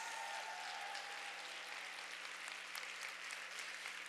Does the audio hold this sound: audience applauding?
yes